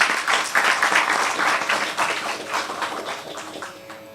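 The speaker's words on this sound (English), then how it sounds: "A big clap for her." An audience applauds a young performer at a stage event, a dense, steady wash of many hands clapping together that swells early and then slowly fades.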